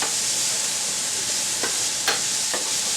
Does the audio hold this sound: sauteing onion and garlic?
yes